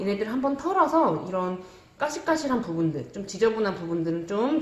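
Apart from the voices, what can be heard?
No distinct noise like a dog, phone or traffic.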